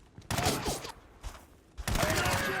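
Bursts of gunfire in a Battlefield video game as bodies are shot: loud, dense volleys in two main stretches with a short gap between them, carrying overlapping impact and ricochet-like noises.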